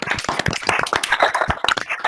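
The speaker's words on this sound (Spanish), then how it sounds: "le damos un fuerte aplauso a Johnny porque la verdad se lo merece" Applause comes over open microphones: a quick burst of scattered claps and taps, close and uneven, for about two seconds.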